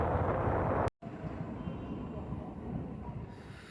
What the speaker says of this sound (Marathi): हे ट्रेन चाललेलं दिसतंय तुम्हाला